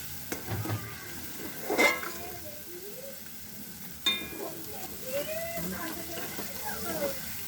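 Momo chutney fries in oil in a pan, bubbling and sizzling with intermittent pops and spatters, along with occasional clinks and faint background voices.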